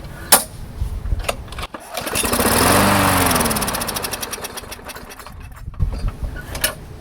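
Craftsman push mower pulled to start, catching and running for a few seconds on primed fuel before sputtering out, with rattling clicks and knocks before and after the run.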